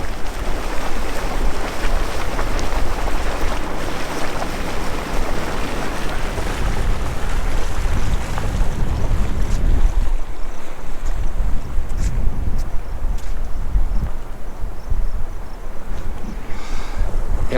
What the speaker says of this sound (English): Artesia Geyser.